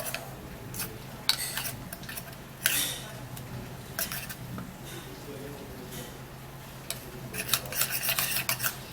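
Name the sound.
stirring oatmeal into tomato paste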